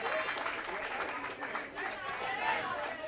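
Applause and crowd noise from spectators at a junior league baseball game during the Junior League Nationals, steady and moderately distant, with commentary voices talking over it.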